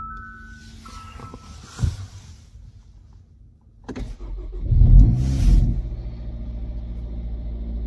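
A Hyundai i30N Performance with a dead start-stop battery cranks with a whirring starter after some clicks, then catches into a deep rumbling idle that settles and runs on steadily.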